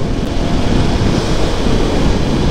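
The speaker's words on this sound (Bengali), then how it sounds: "আরে এত জোরে হাওয়া দিচ্ছে না" Strong, steady wind roars and buffets the microphone on a fast-moving motorbike, a loud low rumble with no pauses and no voices.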